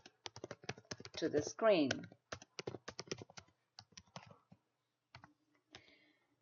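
Quick, irregular keystrokes clatter on a computer keyboard while code is being typed. A brief spoken remark cuts in over the clicking partway through, and the typing then continues more sparsely.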